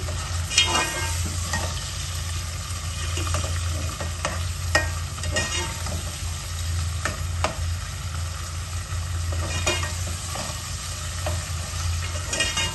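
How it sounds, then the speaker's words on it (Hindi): Small chicken cubes fry for fried rice, giving a constant sizzle under repeated scraping and clattering stirs of a spatula in the pan, close and without talk. "चिकन के छोटे छोटे क्यूब्स हैं, ठीक है। इसको मैं फ्राई कर लूँगी।"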